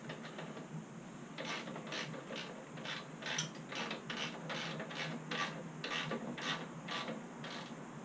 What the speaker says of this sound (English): This side we're going to tighten up the chain to an appropriate tension.